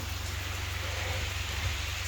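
Heavy rain pours steadily, a dense continuous hiss with a low rhythmic hum underneath, no voices.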